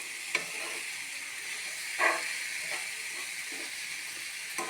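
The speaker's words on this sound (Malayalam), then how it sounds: "എന്നിട്ട് നമുക്ക് ഒന്നും കൂടെ സോർട്ട് ചെയ്യാം. സോർട്ട് ചെയ്യാൻ മീൻസ് ഇളക്കുക." Shallots fry and sizzle in a thick-bottomed pan while being stirred, giving a steady soft hiss with a few scraping clicks and one brief louder scrape near the middle, with no talking.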